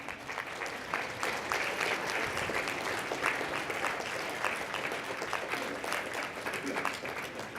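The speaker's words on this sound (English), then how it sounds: "I want you to clap" A live audience claps together in sustained, dense applause, steady and moderately loud throughout with no pauses.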